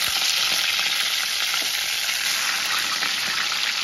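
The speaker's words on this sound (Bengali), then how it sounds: "প্রত্যেক কটা মাছ বেশ লাল করে ভেজে তুলব" Rohu fish pieces sizzle steadily in hot oil, a loud, bright, continuous frying hiss with faint crackles and no voices.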